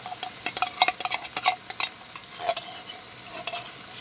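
Canned cream of mushroom soup stirred into shepherd's pie filling in a pan, wet scraping and squelching strokes in an irregular rhythm with faint sizzling beneath, close and moderately loud.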